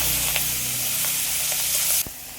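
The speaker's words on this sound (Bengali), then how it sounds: "আগে চিংড়ি মাছটা ভেজে নেব। কড়াইয়ের মধ্যে তেল দিয়েছি" Shrimp sizzle steadily in hot oil in a wok, a dense continuous crackle with a few soft stirring clicks, then cut short as the frying sound drops away near the end.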